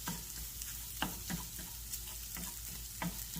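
Crumbled sausage frying in its own oil in a pan for a breakfast scramble, a soft steady sizzle with several light scraping stirs and taps of a utensil, fairly quiet and with no speech.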